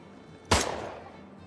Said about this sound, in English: the gunshots are disproportionately loud